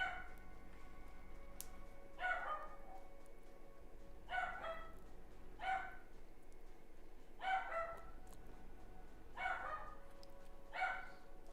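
A Shih Tzu barks in short clustered bursts, a few sharp yaps each time, repeating about every two seconds at moderate distance over a quiet room hum.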